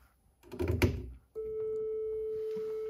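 Modular synthesizer set up to imitate a telephone tone: a burst of clicks and keyboard-like tapping, then a steady, clean continuous tone that holds on alone.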